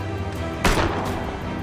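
A grapeshot cannon blast in the naval combat game Abandon Ship: one sudden booming burst rising out of steady battle ambience and quickly decaying, fairly loud and close.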